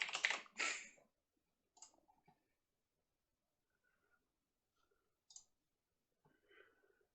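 Keys on a computer keyboard click in a few short, scattered bursts separated by silence. The first taps come loudest and the later ones are fainter.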